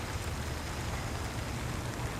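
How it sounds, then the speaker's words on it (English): Steady rain falling during a solid week of wet weather, a dense even hiss of drops that stays constant and fairly loud throughout with no break or voices. "Solid week of rain."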